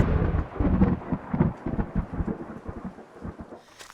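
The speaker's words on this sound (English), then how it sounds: "It commenced to raining so hard after that last clip, and it did not stop for 3 days." Thunder rumbles with heavy rain beginning to pour outside a backyard, a dense low roar that starts loud and gradually eases over a few seconds, with no talking.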